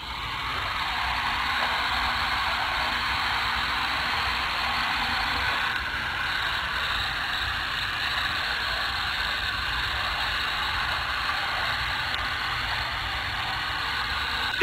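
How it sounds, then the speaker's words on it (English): A heat gun, not a hair dryer, blows hot air steadily into a hot air balloon, a constant loud hiss and whir that holds for the whole stretch with a slight shift midway. "This here is a heat gun. It's not a hair dryer."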